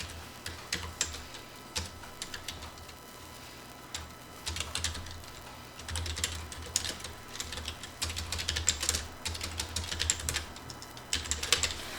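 Someone types on a computer keyboard, entering a title, in bursts of quick, quiet clicks separated by short pauses against a low background hum, with no voices.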